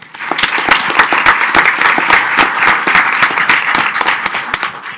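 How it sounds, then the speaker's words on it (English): An audience at a school board meeting gives a steady round of applause, dense and loud throughout, with no talking over it. "So let's clap for him as well."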